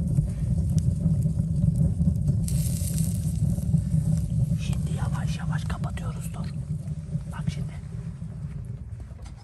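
Camp stove burning outdoors, a steady low roaring rumble with a fine crackling texture running throughout, with people talking quietly over it.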